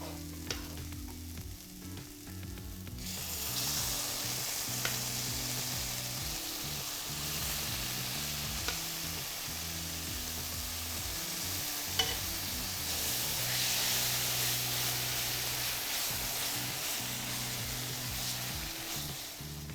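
Tomato sauce hits hot toasted spices and vegetables in a pan with a sudden loud sizzle, then a steady bright frying hiss continues as it is stirred through, with occasional clinks.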